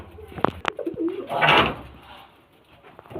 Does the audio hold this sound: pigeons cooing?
yes